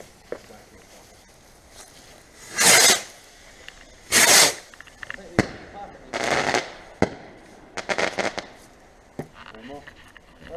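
Cheap Poundland firework rockets launch outdoors on Bonfire Night, several loud whooshing bursts spaced a second or two apart with crackling tails and sharp bangs between, amid faint background chatter.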